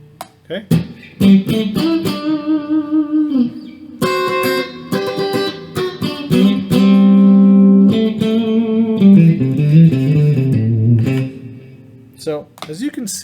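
Electric guitar fitted with EMG DG-20 David Gilmour pickups played through effects, ringing sustained notes and chords with gaps between phrases, loud and close, with no talking over it.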